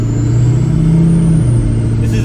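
A 6.0L Power Stroke diesel truck drives down a backcountry road, giving a steady loud engine drone with a constant low rumble and no notable changes in revving.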